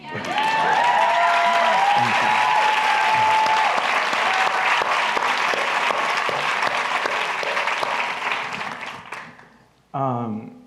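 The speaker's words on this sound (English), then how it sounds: "Let's do one more round of applause for Samuel." A long, full round of audience applause at an author conversation event, loud and sustained for about nine seconds before tapering off, then a speaking voice comes in.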